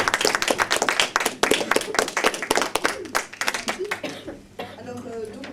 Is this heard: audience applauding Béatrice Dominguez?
yes